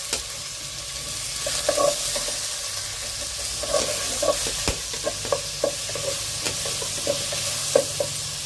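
Onions crackle and sizzle in a pan while a spoon scrapes and taps in a regular rhythm as they are stirred. No one speaks.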